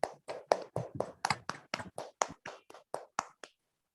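Participants in an online meeting clap in a steady series of about fourteen crisp, evenly spaced claps, close and alone, then stop abruptly.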